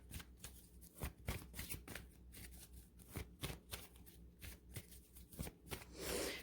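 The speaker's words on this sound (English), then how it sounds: "I'm going to ask Archangel Michael for one more card of advice" Tarot or oracle cards are shuffled by hand in quick, repeated riffling bursts, close and fairly quiet, with a brief rustle at the end.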